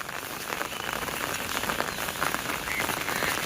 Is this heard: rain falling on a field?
yes